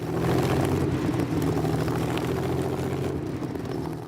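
An engine drones steadily at high revs, around 2,500 rpm, a loud, close, sustained tonal roar with no speech.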